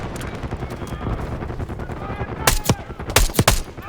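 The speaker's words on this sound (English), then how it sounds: "Gunfire behind us. Over those dunes." Bursts of Call of Duty 6 gunfire crackle through a dense rumbling battle background, with several sharp loud volleys toward the end.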